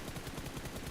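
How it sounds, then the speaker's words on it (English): Rapid gunfire in the mobile battle-royale game PUBG Mobile during a tournament match, a dense, continuous burst of shots with no voice over it. "They hear the fighting, they hear the gunshots."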